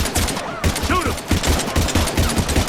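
Mass Effect 3 on the Nintendo Wii U, a continuous battle of repeated gunshots and blasts close by in dense rhythmic volleys, with game sound effects layered underneath.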